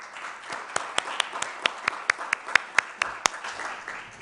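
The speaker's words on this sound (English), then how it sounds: "a big round of applause" Conference audience applauding for a speaker, a soft wash of clapping with sharper individual claps standing out rhythmically over about four seconds.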